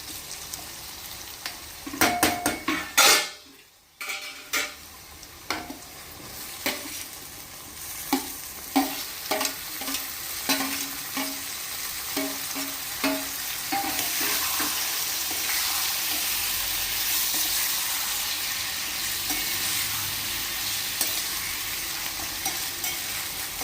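Chopped tomatoes go into a pan of stuffed brinjal curry with onion and ginger-garlic paste: a loud hit and burst at the start, then repeated stirring scrapes over a building, steady sizzle that fills the rest.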